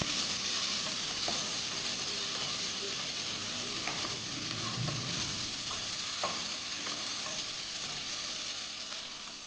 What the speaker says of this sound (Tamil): பெரிய வெங்காயம் ஒன்றே ஒன்று போதும் சேர்த்து நல்லா வதக்கிக்கலாம்